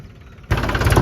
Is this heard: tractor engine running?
yes